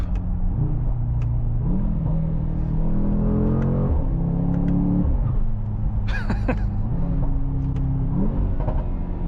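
A Mercedes-AMG GT 63 S E Performance hybrid pulls hard on a slight downhill, its engine note rising and dropping through repeated gear changes, with a short hissing turbo blow-off burst around the middle; the engine drone runs loud throughout.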